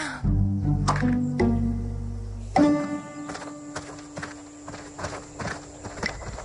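Cartoon horse hooves clip-clopping in a clear, regular rhythm after a brief opening tone, close and prominent with no speech.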